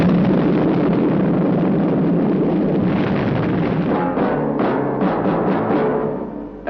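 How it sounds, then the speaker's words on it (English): A massive explosion tears apart a maximum-security building in a 1967 Captain Scarlet and the Mysterons TV episode, heard as a loud, sustained roaring blast and rumble of destruction that tails off with scattered crackling debris. "There has been an explosion in Spectrum Maximum Security Building."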